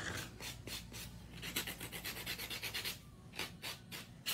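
Rapid rhythmic rasping of a nail buffer, coming in short bursts of quick strokes with brief pauses, close and fairly soft.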